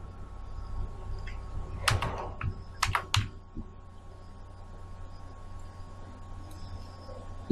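A few short bursts of keystrokes clack on a computer keyboard as a channel name is typed, with clustered clicks near the middle and quiet room hum between them.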